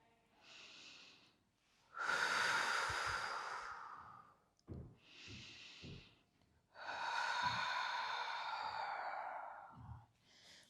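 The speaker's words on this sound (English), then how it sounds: "A few deep breaths here." Slow, deep breaths during yoga practice, close and clear, with long rushing inhales and exhales alternating alongside a few quieter breath pauses.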